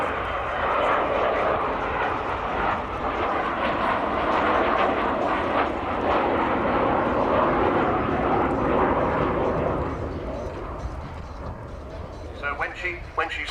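An Avro Vulcan B2 bomber flying at the Royal International Air Tattoo air show, a loud sustained jet roar that rumbles steadily and then eases slightly, heard from the crowd with a commentator talking over it.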